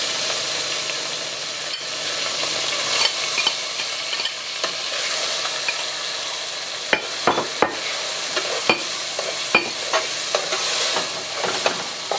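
Beans frying in a pot for Haitian djon djon rice, with a steady close sizzle throughout and repeated sharp scraping knocks of a spoon stirring against the pot.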